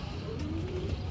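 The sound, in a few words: pigeons cooing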